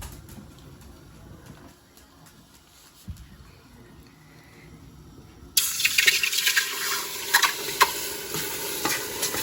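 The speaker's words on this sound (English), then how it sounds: "now I'm gonna pour it into the pot" Water and marinated curried goat for a Jamaican curry are poured into a pot, breaking into a loud hiss and sizzle that keeps crackling steadily after a quieter stretch of handling and stirring.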